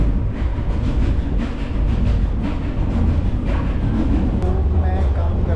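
A Vietnamese passenger train runs at about 45–50 km/h on the Saigon–Hanoi line. Its loud, steady rumble and rattle fill the whole stretch without pause.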